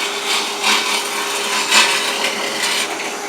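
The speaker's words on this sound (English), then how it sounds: "And just start wasting away the wood." Wooden mallet blank spinning between centers on a wood lathe while a tool cuts away wood, giving a loud continuous rasping hiss with repeated surges of cutting noise.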